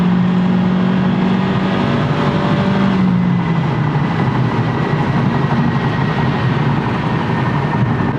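A 2022 Honda Civic with a 2.0L engine and tuned intake accelerates at full throttle, its steady engine drone rising in pitch from inside the cabin, loud and continuous with no talking.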